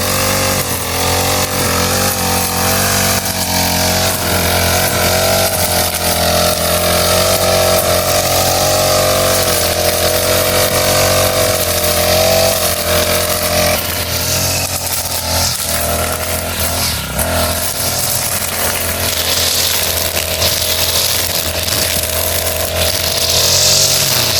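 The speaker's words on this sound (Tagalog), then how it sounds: "Ayan po at nag-start na si Bossing na mag-grass cutter." A grass cutter's small engine runs loud and close without a break while it cuts grass, its buzzing drone holding steady with slight shifts in pitch.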